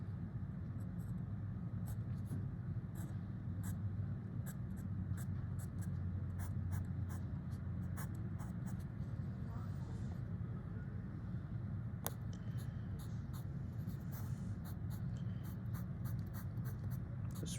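White charcoal or pastel pencil rubbing across paper while adding highlights, a steady soft scratchy scraping in short repeated strokes close by, over a constant low rumble of background noise.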